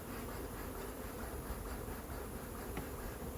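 Honeybees in an opened hive during an inspection make a faint, even, continuous buzz that holds steady throughout with no voices.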